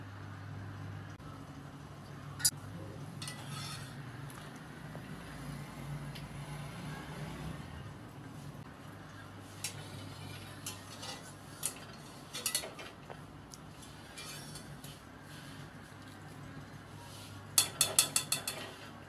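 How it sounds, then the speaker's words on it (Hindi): Boiled potatoes lifted out into a bowl in a home kitchen, faint clinks and taps of utensil against dish scattered over a low background hum, with a quick cluster of clatters near the end. "इस तरह हमने आलूओं को बाउल में निकाल लिया है।"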